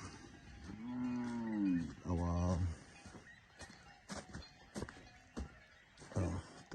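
Cattle on a rural homestead in Buhera, Zimbabwe, let out two drawn-out moos in quick succession, fairly close and loud. Scattered thuds and rustling movement follow, and a shorter call comes near the end.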